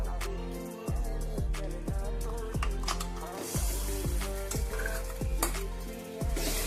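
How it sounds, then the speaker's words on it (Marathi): Butter paneer masala gravy with red chili powder and coriander being stirred and sautéed in a pan, a steady sizzle broken by repeated scraping strokes of the spoon roughly every second. "7 मिनिटे त्या ग्रेव्हीला तेल सुटेपर्यंत परतून घेऊया।"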